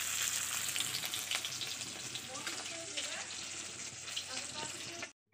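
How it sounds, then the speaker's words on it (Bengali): Pieces of pond-caught kalbasu fish frying in a pan, a loud, steady close sizzle with spitting crackles that carries on evenly before cutting off abruptly. "এদিকে আমরা মাছ ভাজা"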